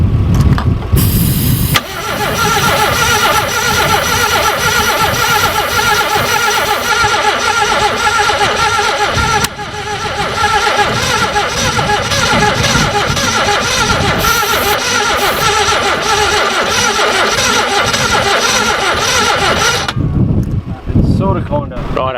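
A hovercraft's Subaru engine, battery charged after sitting for a while, runs and revs loudly and steadily for about twenty seconds, rough and continuous with wind buffeting the microphone, then cuts off abruptly near the end.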